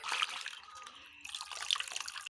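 Water splashes and drains as vegetables are rinsed in a bowl. Two bursts of close pouring and sloshing are separated by a brief lull, with trickling and drips and no voices.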